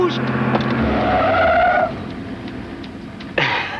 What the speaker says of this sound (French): Elle freine bien.